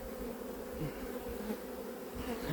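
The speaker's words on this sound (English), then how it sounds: "Look at all them baby bees, or new bees." Honeybees in an open hive during inspection at the end of the season, a dense, steady buzzing hum from many bees, close and continuous throughout with no voices.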